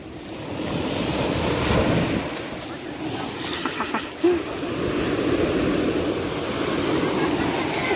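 Sea waves wash onto a beach in a steady, rolling rush with wind buffeting the microphone, a person talking faintly over the surf.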